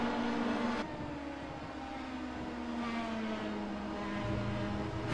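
A Pro Mazda race car at Road America as the driver backs off the throttle: a steady, fairly distant engine drone whose pitch drops and shifts over a few seconds, with no voices.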